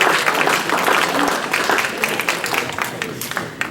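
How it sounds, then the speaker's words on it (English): Applause from a conference audience at a healthcare talk, a loud burst of clapping that thins and becomes more scattered toward the end, with some voices mixed in. "Please clap."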